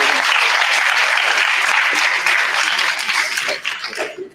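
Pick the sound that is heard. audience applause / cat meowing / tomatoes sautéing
audience applause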